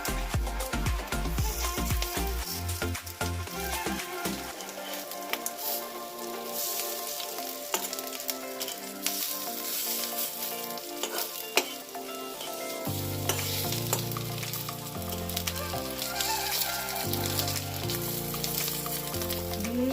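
Fish roe tikka fries in a pan over low heat, a steady close sizzle and crackle of oil running throughout with occasional stirring and utensil scrapes, no talking.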